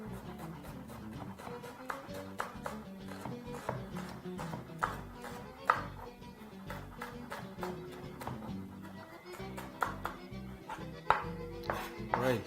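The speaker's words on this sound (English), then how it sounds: "starts off very easily by chopping some onions" Onions being chopped on a board while preparing a Kenyan dinner of dry-fried githeri and arrowroot stew: a steady run of sharp knife taps, close and moderately loud, with faint kitchen clatter behind.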